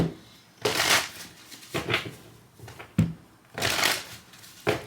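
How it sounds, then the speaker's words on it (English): Tarot cards being shuffled up close, several quick riffling bursts separated by short pauses. "let me do a quick shuffle"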